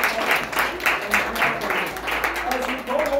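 Church congregation applauding at the close of a sermon on God's greatness and goodness, steady broadband clapping for about three seconds, with voices mixed in beneath it.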